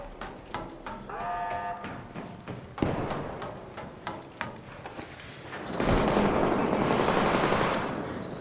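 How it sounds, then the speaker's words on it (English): Gunfire in the video game ARC Raiders: rapid bursts of automatic shots and single cracks, one sharp loud blast, then a dense sustained roar of fire, all close and intense. "There's a lot of gunfire here."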